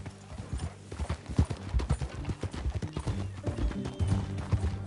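Steady clip-clop of horse hooves at a brisk trot in the video game Red Dead Redemption 2, close and rhythmic, with a horse briefly whinnying amid the hoofbeats.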